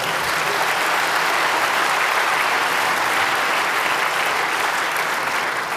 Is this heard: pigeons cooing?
no